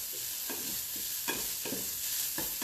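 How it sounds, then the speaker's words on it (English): Chopped bacon sizzles and crackles steadily in a pan, with soft stirring or scraping strokes every half second or so, fairly quiet and heard alone without speech. "I've got the bacon back here frying"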